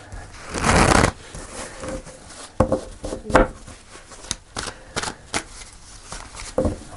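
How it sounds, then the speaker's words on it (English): Tarot cards are shuffled near at hand, opening with a dense riffling burst, then a run of sharp flicks and taps as cards are split and set down. "So I'm going to pull some cards."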